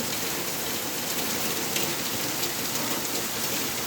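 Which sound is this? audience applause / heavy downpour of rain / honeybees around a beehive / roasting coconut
heavy downpour of rain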